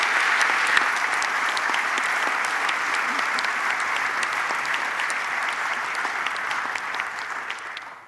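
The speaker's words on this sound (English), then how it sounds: "So I would ask you to give them a special applause, because they worked very hard for this." Conference audience claps in sustained, dense applause at the close of the event, loud and even throughout before tapering off at the end.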